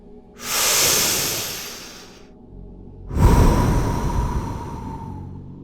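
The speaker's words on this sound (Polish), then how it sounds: "więc weź głęboki oddech." A long, deep breath: a loud airy inhale, a short pause, then a slow, heavy exhale close to the microphone.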